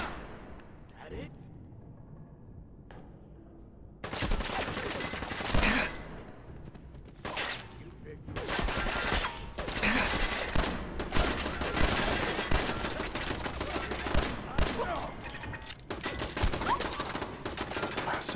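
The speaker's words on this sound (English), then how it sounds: "Is that another bloody turret?" Turret gunfire in the Fallout 4 video game: a quiet opening, then sustained, loud bursts of rapid shots running almost continuously, with brief lulls, amid dense game combat noise.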